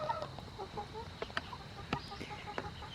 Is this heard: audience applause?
no